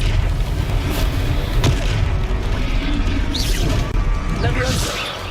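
The Expelliarmus spell in Hogwarts Legacy goes off as a dense, loud magical whoosh and boom layered over constant game combat noise, with swishing sweeps and a voice speaking over the action.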